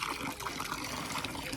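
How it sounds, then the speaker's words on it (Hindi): Mountain spring water trickling beside a trail on the route to Kedarnath, a continuous close splashing flow with faint voices in the background. "हमें दिख गया स्रोत का जल, यानी कि स्रोत का पानी"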